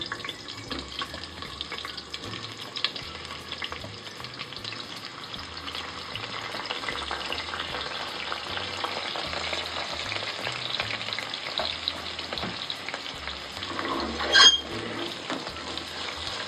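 Onions fry in oil for chicken curry with a steady, even hiss of frying that holds the whole time, and a brief clink stands out near the end.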